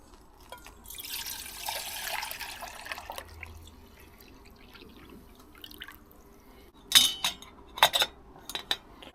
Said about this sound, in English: We've got a litre of water.